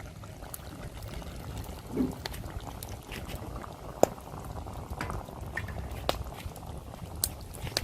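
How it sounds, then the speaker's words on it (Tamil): Coconut milk poured into a simmering mutton curry, a gentle liquid pour and bubbling close by, with occasional light clicks over a steady low rumble. "இதுக்குள்ள தேங்காய் பாலையும் சேர்த்துக்கொள்வோம்."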